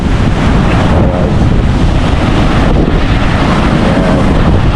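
Strong wind roars steadily at the seashore after rain, blending with the wash of surf into a loud, unbroken rush.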